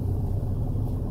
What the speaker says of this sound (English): I'm gonna start my truck